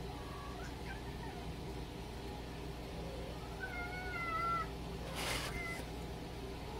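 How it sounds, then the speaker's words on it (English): A three-legged cat meows faintly a couple of times in the distance over a steady background hum, with a short burst of noise near the end. "You can hear Ragnar, our three-legged cat, down there meowing."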